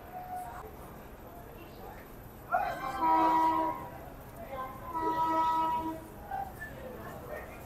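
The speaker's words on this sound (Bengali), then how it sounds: "আর আমাদের এই ট্রেন ছেড়ে দিল কিন্তু মালদা টাউন থেকে।" The 13125 Kolkata Sairang Express pulls out of platform 4 at Malda Town station, sounding two long horn blasts a few seconds apart over a low, steady rolling rumble.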